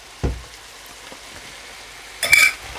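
Chopped onion, carrots and garlic drop into a hot pan for a chicken pot pie filling, a dull thud followed by a quiet pause, then a sudden bright burst of sizzling near the end.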